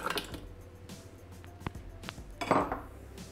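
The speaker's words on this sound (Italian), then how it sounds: "Aggiungiamo il latte congelato a cubetti," Frozen cubes of milk drop into a Thermomix bowl with a few sharp knocks and clinks, scattered and close, ending in a brief louder clatter.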